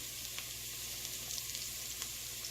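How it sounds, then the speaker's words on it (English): Garlic sautéing in a pan for homemade pasta sauce, a quiet, steady frying hiss with a few small pops, heard alone without talk. "Okay, so you saute your garlic."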